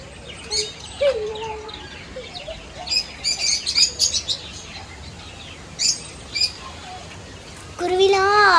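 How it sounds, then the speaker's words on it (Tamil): Lovebirds at a park in Kutralam chirp in bright, short bursts and rising twittering calls, scattered across the clip and fairly close, with people talking faintly in the background. "இதெல்லாம் லவ் பேர்ட்ஸ்."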